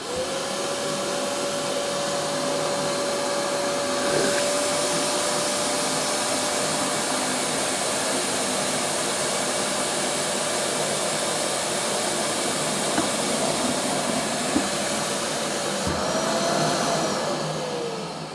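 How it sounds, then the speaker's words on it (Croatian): A Bosch GAS 12-25 PL wet-dry vacuum sucks up several litres of liquid, a loud, steady motor roar with a thin whine, unbroken for the whole stretch and with no voices. "Sada ćemo vidjeti kako Bosch usisava tečnost."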